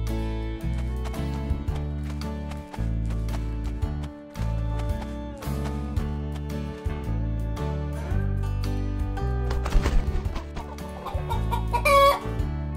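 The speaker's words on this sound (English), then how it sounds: "Chicken." Chickens cluck in short bursts over continuous music, with a higher squawk rising toward the end.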